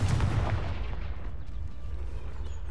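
A Confringo fire spell cast in Hogwarts Legacy bursts with a loud, booming blast at the start, then rumbles away into a low, sustained roar that fades slowly.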